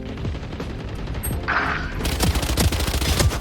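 Gunfire in the video game Valorant, with scattered shots giving way to a dense burst of rapid automatic fire and sharp cracks, loud and close, and no one talking.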